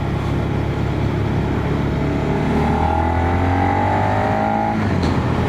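A Suzuki SV650 motorcycle engine drones steadily while riding, its pitch climbing smoothly as it accelerates midway, with constant wind rush and no voices.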